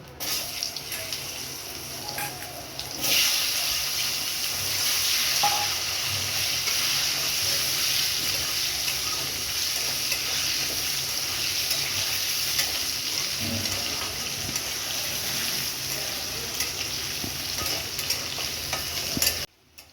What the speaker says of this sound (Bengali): আলু কুমড়ো কষিয়ে নিয়েছি, দেখুন